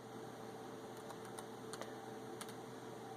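Soft, irregular taps of typing on an iPad's touchscreen keyboard, close but faint over a steady background hum.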